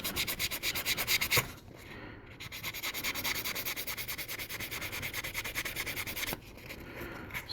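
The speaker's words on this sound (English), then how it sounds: "I'm gonna give this a good sanding to see if anything pops up" Super fine sandpaper rubs over primer on a resin surface in steady back-and-forth strokes, close and continuous, with two brief pauses between passes.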